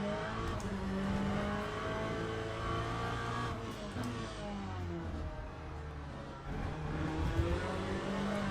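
A race car in Le Mans Ultimate howls under hard throttle, its engine note rising and falling continuously at moderate level, with no voices over it.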